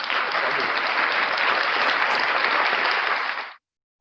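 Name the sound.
applause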